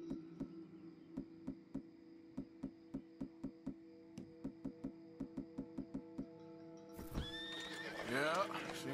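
Horses on a roadside stop in a Western stagecoach setting, with a steady run of clip-clopping hooves followed by a loud, close whinny near the end.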